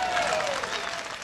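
Audience applause at a live studio performance in the mountains near Asheville, North Carolina, a steady wash of clapping hands throughout, moderately loud and without pause.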